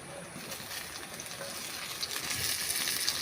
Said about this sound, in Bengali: ক্যাপসিকামটাকে আমি ভালো করে একটু ভেজে নেব।